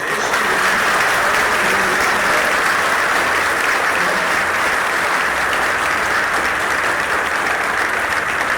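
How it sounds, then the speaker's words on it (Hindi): A student audience at a welcome event for a NEET topper gives sustained applause, thick and even clapping at constant loudness throughout with no break. "यार फर्स्ट वाली सी ताली आने दो।"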